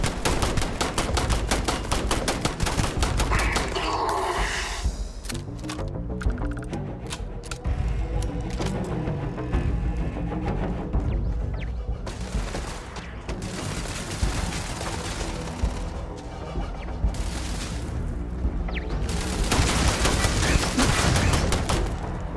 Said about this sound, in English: Freaking turrets, man.